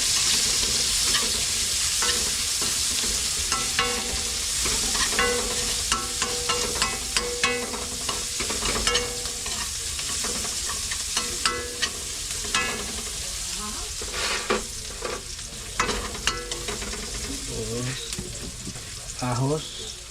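Onion sizzles hard in a hot pan while a utensil stirs and scrapes it, an even loud frying hiss broken by frequent clinks and scrapes, with a voice speaking briefly near the end.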